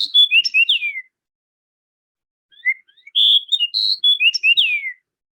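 A bird sings a clear, whistled song of rising and falling notes, twice in close succession with a brief silence between, nearby and alone.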